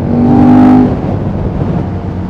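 KTM 1290 motorcycle engine while riding, a loud steady close drone with a brief rising rev at the start, then settling into a rough, windy hum.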